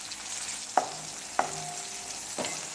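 Tomatoes softening in a pan give off a soft, steady sizzle, broken by two or three sharp clinks of a utensil stirring against the pan.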